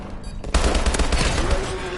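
Video game gunfire bursts in abruptly after a brief lull, a loud rapid clatter of repeated shots, like automatic weapons firing close by, continuing without pause to the end.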